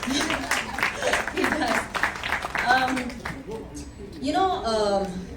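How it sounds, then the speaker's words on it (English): Audience round of applause at a Hyderabad hotel event, a burst of clapping for the first couple of seconds that thins out as a speaker talks over and after it. "he deserves a round of applause"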